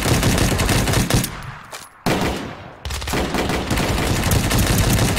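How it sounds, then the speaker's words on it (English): Rapid, loud gunfire fills the online shooter Ring of Elysium, with dense bursts of shots that drop out briefly before the firing resumes in heavy volleys. "I believe people are shooting at me from the tower"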